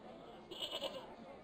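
A goat in Broken Sword: The Smoking Mirror gives a brief, wavering bleat midway through, over a low hum of game ambience.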